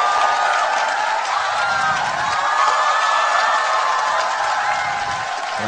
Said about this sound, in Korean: 여러분 뜨거운 박수로 맞아주십시오.